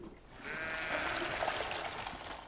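Sheep bleating on hillsides, a drawn-out quavering bleat rising over a soft outdoor background, fairly near and alone.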